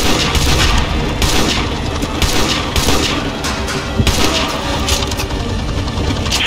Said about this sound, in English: All snipers, clear to engage.